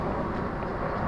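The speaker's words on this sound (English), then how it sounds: "That's the sound of an aeroplane as Rowe punches this one up towards mid-on." Aeroplane passing overhead during a women's Rachael Heyhoe Flint Trophy cricket match with no crowd, a steady broadband engine roar dominating low and mid frequencies, fairly loud and continuous without any talk.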